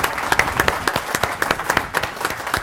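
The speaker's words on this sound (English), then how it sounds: "But please give our panel a real round of applause." An audience claps for a panel at a China policy discussion event, brisk applause with distinct individual claps that rise and fall in uneven peaks, filling the room without speech.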